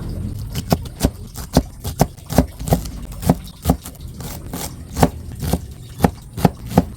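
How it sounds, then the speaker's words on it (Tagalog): Knife chopping water spinach (kangkong) stems into small pieces on a board for fritters, about twenty crisp, fairly regular thuds close by with no talk. "Islicein lang po natin ng medyo maliliit po."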